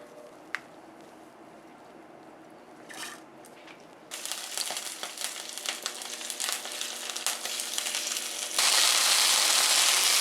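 Dried pollock coated in starch sizzles in a pan as it is lightly pan-fried before braising, a soft crackle that swells into dense, bright frying hiss growing louder toward the end, with no speech.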